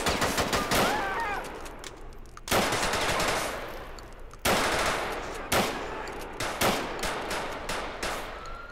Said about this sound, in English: All right, they're all shooting at me.